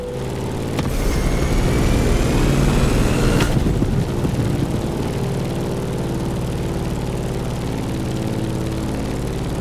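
Propeller airplane engine in The Crew Motorfest racing game, a loud, constant droning hum heard close up, with a brief whooshing sweep early on before settling into an even cruise tone.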